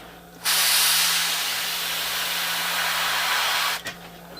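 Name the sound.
spray gun spraying yellow paint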